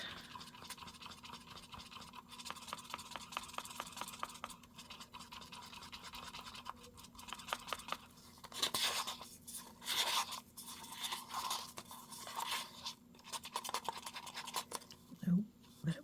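Gold pigment is stirred into resin in a cup, producing a steady soft scraping and ticking from a stirring stick that continues throughout. A person talks over it at times.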